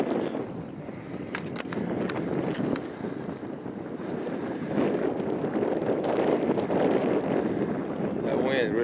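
Wind blowing across open water on a boat during a fishing outing, a steady rushing roar filling the microphone with gusts building toward the end, faint clicks and splashes of fishing gear underneath.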